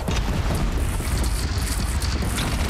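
A cannon firing in Horizon Zero Dawn, heavy rumbling booms and explosions overlapping in a loud, continuous, dense barrage of crashing impacts.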